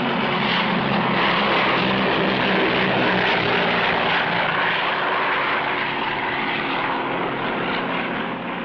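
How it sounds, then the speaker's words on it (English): An airplane approaching to land, heard as a loud, steady, close engine drone that holds evenly throughout and eases only slightly at the end. "despite the warnings, we're determined to land"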